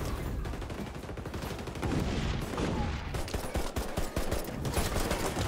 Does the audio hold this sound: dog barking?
no